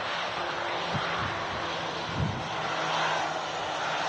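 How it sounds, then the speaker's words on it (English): A Jet2 Boeing 737 airliner lands at Manchester Airport in stormy, windy weather, its engines giving a steady, broad roar that holds throughout at moderate distance. "Jet2 737 landing."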